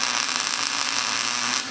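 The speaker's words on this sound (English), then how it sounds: "So I'm gonna weld these." Steel test pieces are welded onto the frame of a GS300 drift build, a close, steady hissing buzz that holds evenly for under two seconds before easing off, with no speech.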